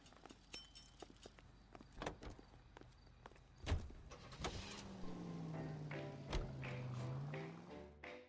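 A car drives in L.A. Noire, a 1940s Los Angeles crime video game. A quiet engine drone rises and falls among scattered clicks, taps and door-like clunks, with no speech.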